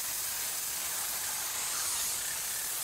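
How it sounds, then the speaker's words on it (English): Blygold corrosion protection coating sprayed onto an HVAC coil at a 45-degree angle, a continuous broad hiss of even strength with no pauses, close and steady throughout. "The penetrating layer is sprayed on from a 45-degree angle."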